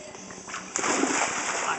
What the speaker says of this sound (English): When I get on this stuff, I'll big splash over the water.